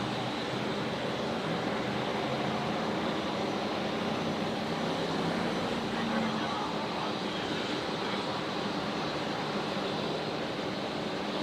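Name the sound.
Boeing 747 arriving at Brisbane Airport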